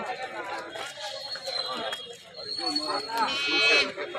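Sheep bleat at the weekly Allagadda sheep market, wavering cries rising over a busy crowd, with people talking nearby throughout.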